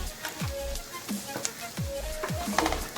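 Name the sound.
ginger and green chili frying in a pan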